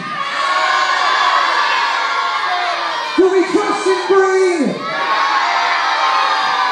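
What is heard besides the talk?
wrestling crowd shouting and cheering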